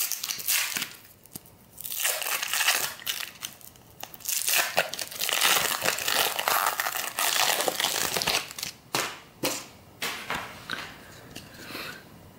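1991 Pacific Pro football trading card packs being torn open up close, with loud crinkling and crumpling of the wrappers, tearing bursts and scattered crunches.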